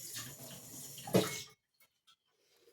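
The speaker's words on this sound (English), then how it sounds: "Very quick rinse there." Tap water runs briefly over a spoon in a sink for a quick rinse, a close, soft splashing flow with a sharper spatter near the end before stopping abruptly, followed by faint clinks.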